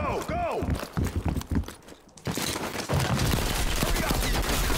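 Rapid bursts of video game gunfire crackle in dense volleys, broken by a short lull before the shooting resumes loud and continuous.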